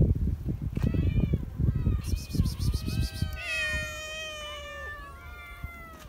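A cat meows repeatedly in a garden where dozens of cats live, its drawn-out, wavering calls rising over a steady rustling background, fairly close and moderately loud.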